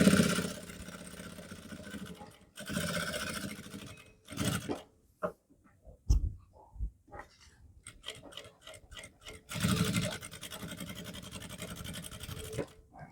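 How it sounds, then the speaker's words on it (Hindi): A sewing machine stitches fabric down over the elastic of a pant waistband, running in several bursts of mechanical whirring and ticking, with short pauses and handling clicks between runs. "ऐसे ऐसे आप पूरे इलास्टिक के ऊपर कपड़े को सील लेंगे।"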